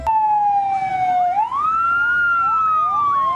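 A toy fire truck's electronic siren wails loud and close, a single tone that dips, then rises to a higher held pitch, with no talk over it.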